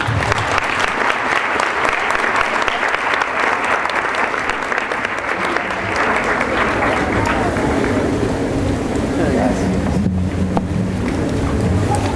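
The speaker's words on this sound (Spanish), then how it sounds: "Vamos a recibirlo con un fuerte aplauso" An audience at a scientific congress applauds to welcome a speaker, a dense steady clapping that holds for several seconds, then thins out and fades.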